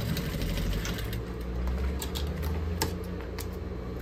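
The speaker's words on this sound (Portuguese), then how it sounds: "Vou costurar aqui" A sewing machine stitches through a cut milk-carton box being made into a zippered pouch, running steadily and close up with a mechanical whirring hum and light clicking throughout.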